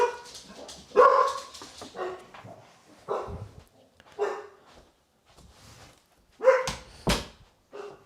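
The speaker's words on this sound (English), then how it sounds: "dog's barking." A dog barks repeatedly in short, loud bursts, clustered at first and then returning later, with quieter gaps and a faint background hum between barks.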